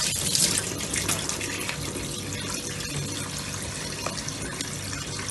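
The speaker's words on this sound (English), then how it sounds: "I need to wash my hands because I was touching the meat" Hands washed under a running kitchen tap in a home kitchen after handling raw goat meat, a steady loud splashing rush of water that goes on without a break, with no talk.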